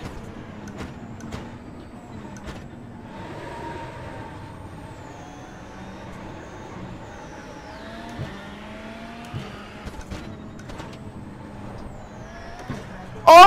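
A damaged rallycross car drives in iRacing, its engine droning and shifting pitch as gears change, a steady mid-level hum with occasional sharp clicks and a loud burst at the end.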